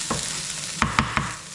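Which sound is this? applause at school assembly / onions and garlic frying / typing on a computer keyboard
onions and garlic frying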